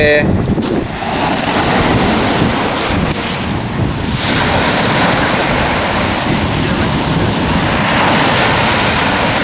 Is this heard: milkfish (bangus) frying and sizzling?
no